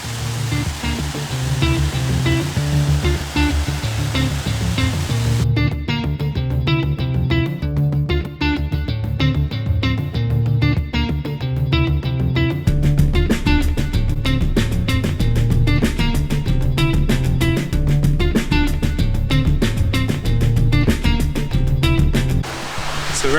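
A waterfall at Ricketts Glen State Park pours with a steady, loud, broadband roar of rushing water that runs unbroken throughout, with no voices.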